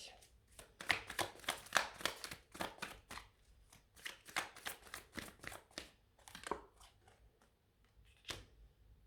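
Tarot cards are laid out on a table in a quiet series of soft, papery slaps and slides, irregular and close, with no talking.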